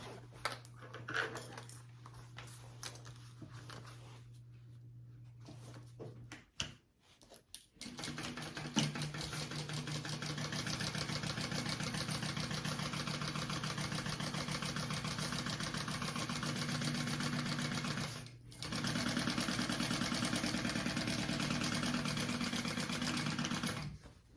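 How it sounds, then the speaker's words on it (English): A sewing machine stitches two pieces of a crossbody bag together, running in a long steady whir for most of the span with one short pause, after some quieter handling sounds at the start. "now I'm gonna sew these two pieces together"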